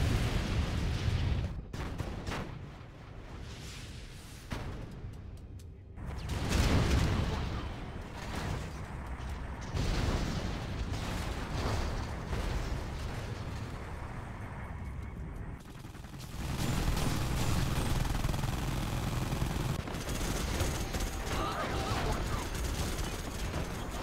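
Particle cannon blast in the real-time strategy game Generals Evolution, heard amid a dense, continuous roar of in-game explosions and gunfire that swells loudly again near the end.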